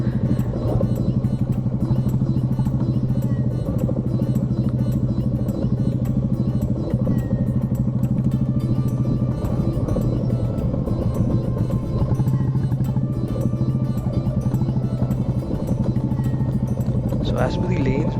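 Motorcycle engine drones steadily while riding a rough rural road, a loud continuous rumble with wind buffeting and someone talking over it.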